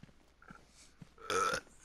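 A single loud, rough human burp lasts about a quarter second, following faint quiet noises and mouth sounds close to the microphone.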